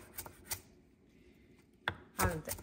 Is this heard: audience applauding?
no